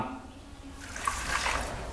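Plain water splashes into a cooking pot already holding coconut sugar for a syrup, a soft steady pour that grows louder and brighter toward the end.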